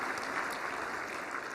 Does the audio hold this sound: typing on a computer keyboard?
no